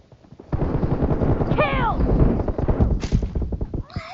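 Video game gunfire crackles in rapid repeated bursts, loud and close, with brief game sound effects between shots and a player's excited voice over the top.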